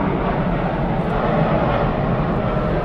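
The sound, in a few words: airplane flying near Miami airport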